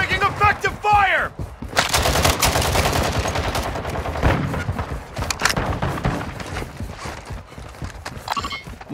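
Gunfire rattles in the Call of Duty Warzone game on Ashika Island, bursts mixed with clip-clopping and other game noises amid radio-style voice callouts.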